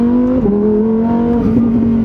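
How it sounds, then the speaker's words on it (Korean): A Lamborghini Huracán Tecnica's 5.2-litre naturally aspirated V10, set to sport mode with manual shifting, revs loud and close. Its strong tone rises and dips as the revs swing up and down, with no talking over it. "이 엉덩이 뒤에서 절절 끓는 V10 자연흡기 엔진의 소리를 듣고 있으면"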